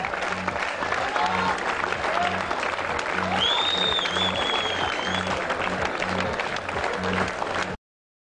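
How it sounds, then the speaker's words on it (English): A large crowd at an annual school hockey match applauds the champions in a loud, steady wash of clapping and cheering, with a whistle-like tone rising above it and a rhythmic low thumping running underneath. "let's give one more thunderous resounding round of applause for the champions and also for every single team who took the extra turf today"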